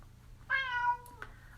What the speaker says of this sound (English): I have a cat that barks louder than my dogs